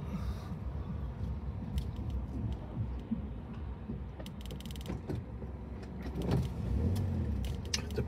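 A car slowly pulling into a parking space on a street in Blackpool, with a steady low engine rumble and road noise throughout, a bus nearby, and a brief louder swell near the end as the car settles.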